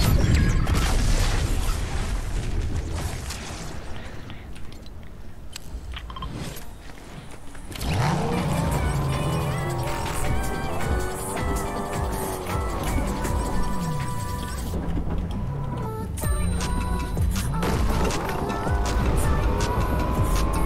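A car is driven around in the Fortnite video game, its engine droning steadily at close range with dense, busy game sounds, brief crashes and a shifting pitch as the vehicle moves, under loud continuous play audio.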